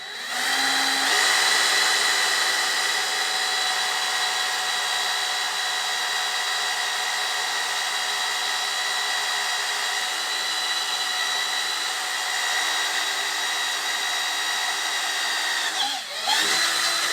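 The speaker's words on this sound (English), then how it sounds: "First I'm going to drill a pilot hole." A steady high-pitched whine of a power drill boring a small pilot hole runs continuously, close and loud, pausing briefly near the end before resuming.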